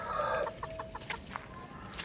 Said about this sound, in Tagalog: Nakahilera yung aking mga manok.